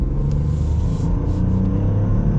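A 2022 Ford Escape hybrid accelerating in sport mode: a steady, close engine drone and road rumble rising gently in pitch, heard alone without talk.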